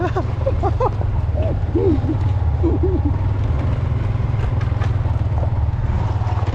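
A manual-clutch motorcycle climbs Marcos Highway toward a tunnel entrance, its engine a steady, close, low drone throughout, with faint higher chirping tones above it.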